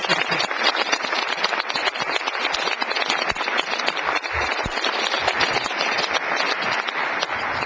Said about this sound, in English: And one last round of applause for all of